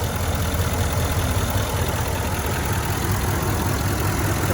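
A 2017 Nissan Titan XD with a Cummins turbo diesel, rear-wheel drive, runs at a steady idle, its low throbbing rumble loud and close without a break and with no voices.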